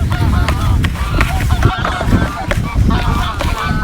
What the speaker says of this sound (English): Sorry about the geese in the background, just going a bit crazy.